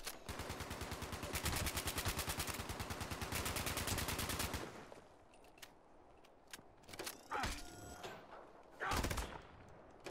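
Fallout 76 PvP gunfire, a long fast automatic burst with evenly spaced shots lasting about four seconds, then scattered single cracks and short bursts that are fainter and farther off.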